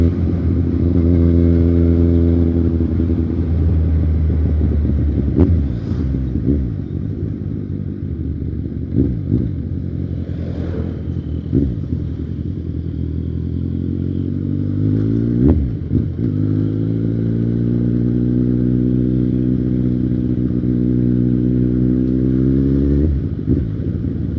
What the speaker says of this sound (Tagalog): Sarap naman pakinggan yung tunog ng exhaust ng motor na to